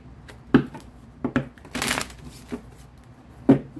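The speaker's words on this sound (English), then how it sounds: "One last shuffle." A deck of tarot cards being shuffled by hand, with soft riffling bursts and a few sharper taps and snaps, close and moderately quiet with no talk.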